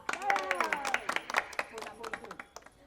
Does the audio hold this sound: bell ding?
no